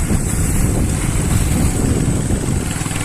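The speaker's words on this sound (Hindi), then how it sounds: "हवा चल रही है" Wind blowing steadily on a cold, foggy winter day, a loud continuous rushing roar buffeting the microphone with no pauses.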